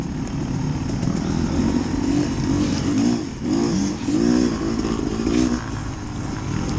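A racing motorcycle on a track, its engine loud and close, revving hard and surging up and down through the gears without pause.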